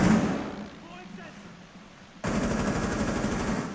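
Bursts of automatic gunfire crackle loudly in a Rainbow Six Siege match on the Chalet map, dropping away and then resuming as a sustained rattling volley, with voices talking over the shots.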